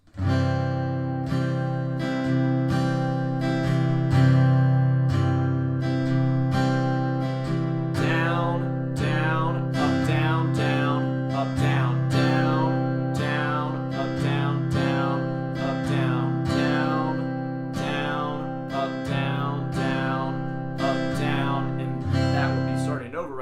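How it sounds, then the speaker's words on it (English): An acoustic guitar strums a steady rhythmic pattern on a held chord, bright and close, with sharp down and up strokes repeating evenly. "So that strum pattern without any chord changes sounds like this."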